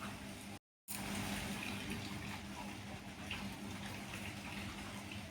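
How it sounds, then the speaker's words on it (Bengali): Water poured into small pots filled with vegetable peels makes a steady, fairly loud gushing splash. It breaks off for a brief silent moment near the start, then runs on continuously with no one talking. "তারপর এর মধ্যে আমি জল দিই।"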